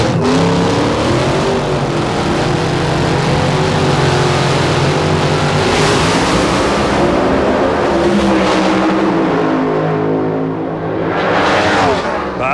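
Top alcohol drag racing cars at the 1995 NHRA Winternationals roar at very high RPM while staging, then launch with a loud, sustained engine blast that swells and fades as they pull away.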